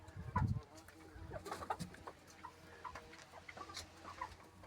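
Hens in a dry, clean coop cluck softly and intermittently at a moderate distance, with a low thump near the start and faint scattered murmuring around them.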